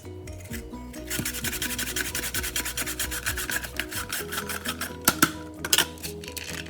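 A carrot drawn up and down over the small teeth of a handheld julienne cutter, a rapid, rhythmic rasping scrape close by, followed by a few sharp knocks, with no talking.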